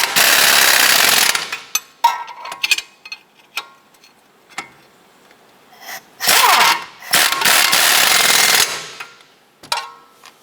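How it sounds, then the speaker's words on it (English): Loud bursts from a power tool snugging down strut assembly bolts on a 2007-2012 Nissan Versa front suspension, several short rattling runs separated by clanks and tool handling. "Go ahead and snug down your bolts."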